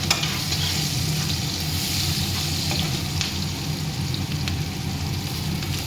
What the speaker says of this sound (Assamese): অকণ ৰঙা হ'ব দিব পিঁয়াজখিনি।